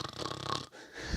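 A man imitates snoring with his voice, a short wheezy rasping breath and snort lasting about a second, quiet and close.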